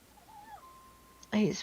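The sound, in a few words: cat meowing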